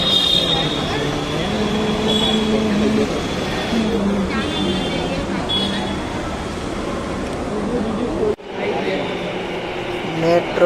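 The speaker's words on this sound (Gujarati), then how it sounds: "મેટ્રો આવી ગઈ છે અને તમે જુઓ કે કેવી જોરદાર સ્પીડમાં મેટ્રો આવે છે" A metro train in Ahmedabad rumbles loudly into a station, with steady rolling wheel noise and a high whine that shifts as it slows; a person talks over it throughout.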